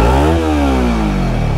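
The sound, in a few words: Kawasaki Ninja 300 motorcycle exhaust note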